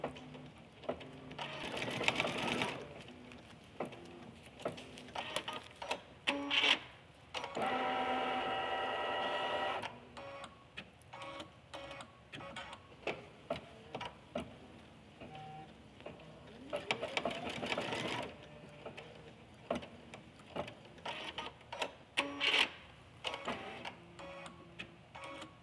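An embroidery machine runs in bursts, stitching in-the-hoop placement lines for the arms and legs of a bear lovey, its rapid mechanical chatter starting and stopping with short pauses in between.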